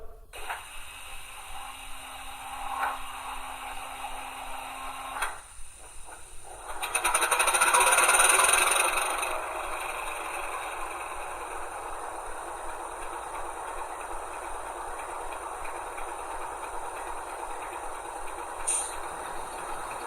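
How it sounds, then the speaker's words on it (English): An NSW 48 class diesel locomotive starts up, then its air compressor runs to recharge the air reservoirs, a steady mechanical drone with a brief louder burst early on, continuing evenly and alone. "As you just heard, the compressor starts to recharge the air reservoirs."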